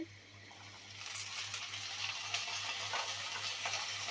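Chopped flat beans are tipped into a pan of frying onion and garlic, and the sizzle swells and holds steady, close by, with a low electrical hum underneath and no voices.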